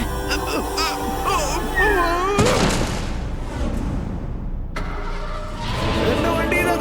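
A motorbike roars to life in a cartoon and is ridden away; a sharp burst of engine noise rises over character voices, then a second revving surge follows as it speeds off.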